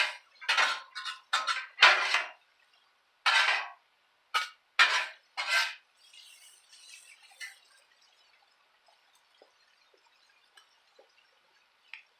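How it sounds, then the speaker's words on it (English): Carrots being tossed and mixed with other vegetables in a pan, a series of loud, close scraping and clattering strokes in irregular bursts, then fading to a faint sizzle with occasional small ticks. "now I'm just going to take those carrots and mix them in with the other vegetables here"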